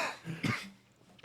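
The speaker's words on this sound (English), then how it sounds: "I coughed." A single short cough with a throat-clearing edge, close and fairly quiet, followed by near silence.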